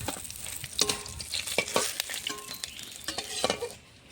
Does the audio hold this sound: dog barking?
no